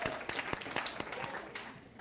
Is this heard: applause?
yes